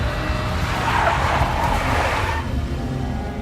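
A big black Mercedes skids in the Max Payne video game, its tires squealing loudly over a steady engine roar for about two and a half seconds before easing off.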